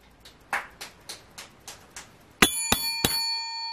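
Bright bell dings celebrate a winning $1,000 scratch ticket: a run of soft ticking taps gives way to three loud, ringing bell strikes that sustain and decay, with no talking.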